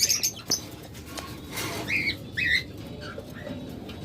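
A pair of farm-kept birds at a bird market give a few short, bright chirps and squawks in quick bursts, fairly close, over a steady background hum with no talking.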